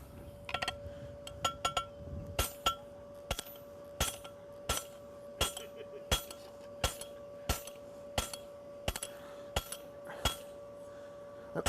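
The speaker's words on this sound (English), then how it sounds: "every blow on the fuller is deliberate, getting all the pieces to overlap" Hammer blows ring on a fuller as a farrier forges a horseshoe at a horseshoeing clinic, a steady series of about a dozen sharp metallic strikes at an even, deliberate pace with a sustained ringing tone between them.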